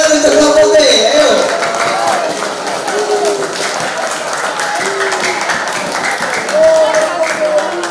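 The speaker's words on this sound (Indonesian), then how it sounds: "Berikan tepuk tangan untuk kelompok B." An audience at a students' quiz contest applauds a team with steady, dense clapping from a crowd, lasting several seconds, while voices sound faintly over it.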